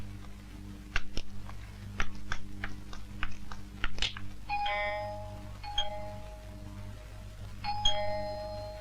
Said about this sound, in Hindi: देख तो बाहर कौन घंटी बजा रहा है।